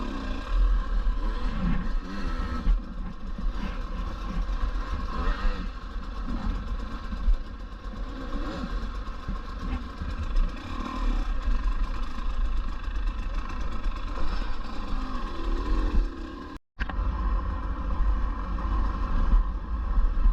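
A 2024 KTM 250 EXC enduro motorcycle running steadily close by on a rocky trail, its engine buzzing loud and continuous with small throttle swells and a momentary cut near the end.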